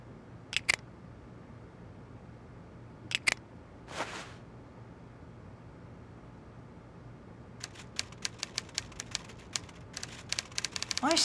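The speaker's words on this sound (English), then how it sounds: "I say, Poirot, he seems to be typing up quite a storm." In the Agatha Christie: Evil Under the Sun video game, typing sounds from behind a locked door: a few sharp isolated clacks and a whoosh, then a faster run of crisp keystrokes building toward the end.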